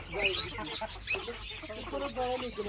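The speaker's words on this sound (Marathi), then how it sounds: "फायटर ओरिजिनल फायटर कोंबड्या." Fighter roosters and hens in a Solapur poultry yard cluck in short bursts, with a couple of sharper calls standing out near the start; human voices are also faintly present in the background.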